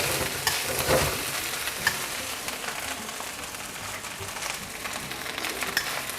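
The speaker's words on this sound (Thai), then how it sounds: "ผมจะคั่ว ๆ เล็กน้อยนะครับ ให้ข้าวมันมีกลิ่นหอมนะครับ" Continuous sizzling and scraping as rice is toasted, tossed and stirred in a hot wok for Chinese sausage fried rice, close and busy, with occasional sharper clinks.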